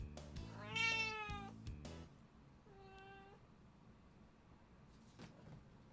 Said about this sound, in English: That's Deceptikitty being in heat.